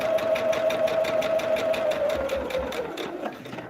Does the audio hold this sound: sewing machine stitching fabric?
yes